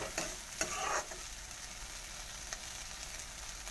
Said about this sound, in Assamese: ঢাকনখন উঠাই পিনি আকৌ এবাৰ লৰাই দিম।